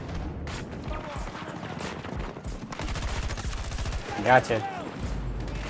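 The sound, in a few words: gunfire in a video game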